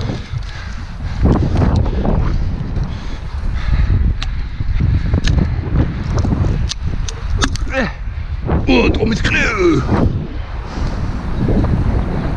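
Gusty wind blowing outdoors around tree pruners at work high up, a constant rushing roar buffeting the microphone throughout, with people talking over it and occasional knocks and creaks.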